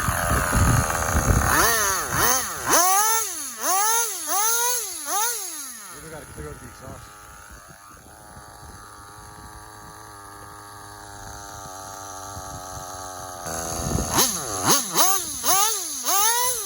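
Small nitro-fuelled engine revving in rapid, looping bursts, cutting back to a low idle for several seconds, then buzzing up again near the end, loud and close with no talk over it.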